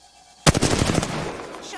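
A short burst of rapid gunfire shooting a cargo bot in Apex Legends, a sharp loud volley of shots lasting about half a second that then trails off.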